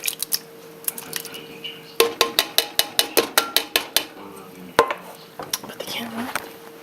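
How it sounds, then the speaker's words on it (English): Zucchini and diced tomatoes going into a pot of simmering tomato basil soup, with a quick run of clinking metal and ceramic knocks and scrapes from a utensil against the pot, close and sharp, then softer stirring. "And now I'm going to add the rest of the ingredients. So my 2 zucchini, the diced tomatoes,"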